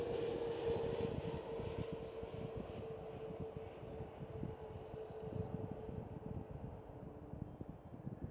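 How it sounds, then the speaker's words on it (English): A KLM Airbus A321neo passes at Amsterdam Schiphol with a sustained jet engine roar and a steady whining tone. The sound is strongest at first and slowly eases away. "KLM A321 Neo."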